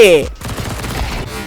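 A burst of Counter-Strike 2 gunfire cracks loudly, followed by continuing rapid shooting with a voice briefly audible.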